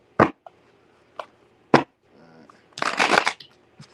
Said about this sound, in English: Damn, that's a terrible shuffle.